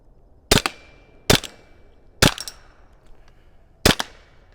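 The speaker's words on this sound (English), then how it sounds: "let me shoot this projectiles" Four loud, sharp shots from a Valken M17 Milsig launcher firing Grimburg HP68 less-lethal rounds at about 70 feet, spaced irregularly, each a crisp crack with a brief ringing tail and no talk.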